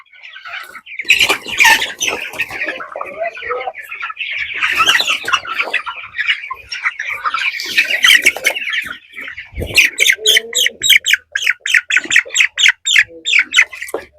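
Broiler chickens in a poultry shed squawk and cluck loudly and continuously, with sharp rapid calls crowding together near the end.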